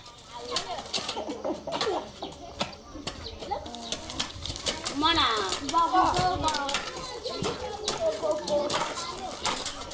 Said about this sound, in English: The sounds of birds show a new day